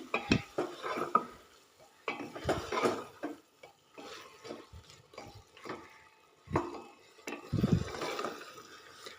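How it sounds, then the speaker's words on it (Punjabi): Potatoes cooking in masala in a pan, heard as irregular scrapes and clanks of a spatula against metal, close and fairly loud, with short pauses between the bursts of stirring. "ਦੋ 3 ਮਿੰਟ ਤੱਕ ਆਲੂਆਂ ਨੂੰ ਆਪਾਂ ਇੱਦੇ ਮਸਾਲੇ ਵਿੱਚ ਪਕਾਵਾਂਗੇ"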